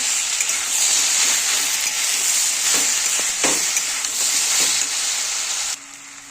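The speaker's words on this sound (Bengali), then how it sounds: "এবার সবজিটাকে ভালো করে কষিয়ে নিতে হবে" Cauliflower stalks with green chili paste being stir-fried in a pan give a loud, continuous, close sizzle, broken by a few scraping stirs before it cuts off abruptly near the end.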